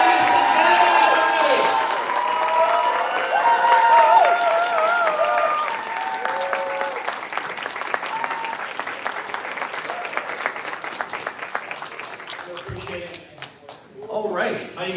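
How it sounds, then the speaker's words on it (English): A large convention crowd in Toronto applauds loudly with scattered cheers and whistles for Stan Bush taking the stage, the clapping slowly thinning out toward the end. "keep that applause coming"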